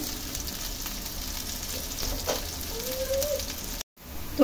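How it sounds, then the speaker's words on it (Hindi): Chopped onions fry in a hot pan toward golden brown, giving a steady close sizzle and crackle that runs unbroken and fairly loud, with one brief dropout near the end before the sizzling resumes. "मैंने प्याज डाल दी हूँ, और इसको गोल्डन ब्राउन होए तक इसको पकाऊँगी।"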